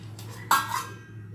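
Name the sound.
lid being put on a cooking pot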